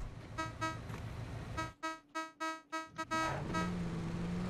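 A car horn honks in PUBG, a string of rhythmic beeps, four or five short toots in quick succession over a low engine hum, fairly faint.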